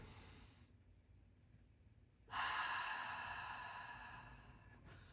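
Slow, steady breathing in a 4-7-8 exercise: a soft inhale, then after a pause a louder, longer exhale that tapers off, close and alone.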